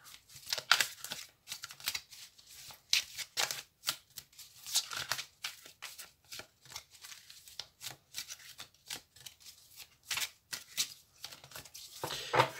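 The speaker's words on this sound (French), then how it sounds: "Je vais donc couper le jeu et sélectionner pour vous 3 cartes." A deck of oracle cards being cut and shuffled by hand: quick, dense bursts of riffling and papery flicks come in irregular clusters, close and fairly quiet, with no voice.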